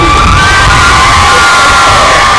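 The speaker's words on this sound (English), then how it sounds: "let's give a big round of applause for the Highland." A crowd cheers, whoops and shouts loudly and continuously for a first-place high school softball team receiving a state championship honor, with the roar holding steady before cutting off abruptly.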